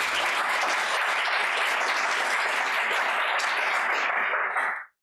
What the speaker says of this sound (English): So please give a big hand to Mr. Bill Miner.